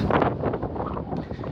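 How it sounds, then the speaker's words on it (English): Wind buffets the microphone in low, rumbling gusts, a brief burst of muffled blustering noise. "Excuse the wind here, it's a bit windy"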